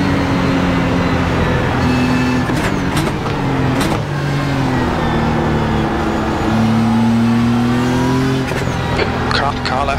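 BMW GTD race car engine in the iRacing game at Indianapolis, a loud continuous drone with rising and falling pitch through gear changes, with brief tyre squeal and a radio voice talking over it.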